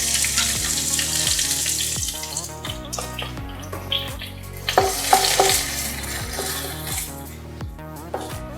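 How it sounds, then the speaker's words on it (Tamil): Steady sizzling of onions frying in hot oil, with stirring and scraping sounds throughout, close and fairly loud. "இப்போ எண்ணெய் சூடாயிடுச்சு. ஃபர்ஸ்ட் வெங்காயம் போட்டுக்கலாம்."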